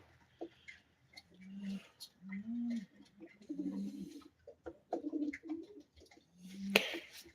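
Pigeons in a loft cooing in repeated low, rolling calls, fairly faint and close, with soft rustles and a sharper call near the end.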